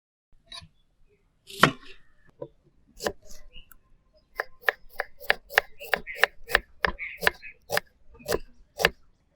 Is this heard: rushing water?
no